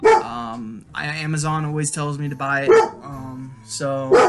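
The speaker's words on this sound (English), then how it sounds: "or she's just barking at a squirrel." A dog barks several times in the background while someone talks over it, the barks recurring in short bursts.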